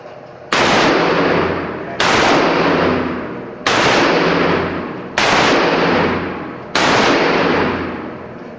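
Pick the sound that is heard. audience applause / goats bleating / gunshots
gunshots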